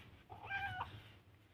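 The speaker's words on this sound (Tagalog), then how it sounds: "Pusa na to." A house cat gives one clear, medium-loud meow with a rising and falling pitch, heard close against a quiet low background hum.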